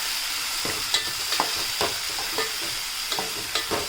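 Finely chopped tomato fries with garlic in a pan, a constant close sizzle punctuated by regular knocks and scrapes of a spatula stirring, with no voices.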